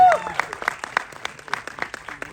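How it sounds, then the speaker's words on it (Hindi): Audience clapping at the teaser launch event for the film Border 2, a dense burst of hand claps filling the short moment, with a voice or crowd noise blended underneath. "सनी बाजी के लिए एक बार जोरदार ताली होनी चाहिए।"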